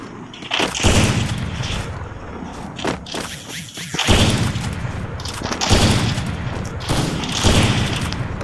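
Gunfire from the Free Fire video game, including sniper shots, comes as repeated loud bursts and booms in several clusters across the stretch, with dense continuous game sound between them.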